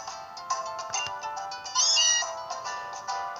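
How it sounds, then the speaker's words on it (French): A Meowth in Pokémon Sun gives a short, bright, synthesized meow, with a higher squeal in the middle, alone and clear against quiet background. "Le miaou qui fait miaou."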